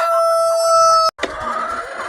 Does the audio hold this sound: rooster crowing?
yes